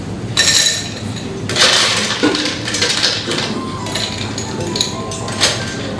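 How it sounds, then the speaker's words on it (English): Ice cubes clink and rattle into a glass for a whiskey drink mixed with apricot jam, a few bright, close knocks and chinks in quick bursts over background room noise. "In goes the ice."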